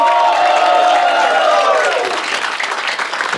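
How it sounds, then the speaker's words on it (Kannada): A stand-up comedy audience applauds loudly for the Kantara movie, a dense crowd of clapping with some cheering that holds strong and then thins slightly near the end. "ಇವತ್ತು ಚೋರಾದ ಚಪ್ಪಾಳೆ ಬರಲಿ ಕಾಂತಾರ ಮೂವಿಗೆ"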